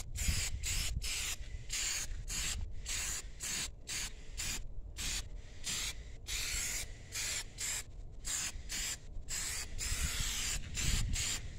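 Black spray paint goes on as a second coat over the rims of a 1993 Honda Accord CB7, in a steady run of close, loud hissing bursts separated by brief pauses.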